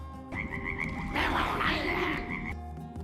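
A cartoon frog in an animated story croaks in a rapid, rhythmic series that swells louder in the middle, set against a soft, steady tonal background.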